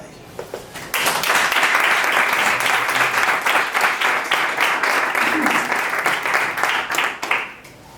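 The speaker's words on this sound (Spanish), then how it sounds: "os pido un aplauso especial para todas ellas" A seated audience in a Spanish lecture hall bursts into sustained applause for the nuns of the San Antón convent, dense clapping starting after a second of near silence and running for about six seconds before fading.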